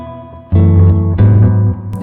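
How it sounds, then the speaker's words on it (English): Electric guitar run through a bucket brigade delay on a Line 6 HX Stomp XL, sounding as two loud sustained chords with a long repeating echo tail that trails off. "and then use a bucket brigade delay."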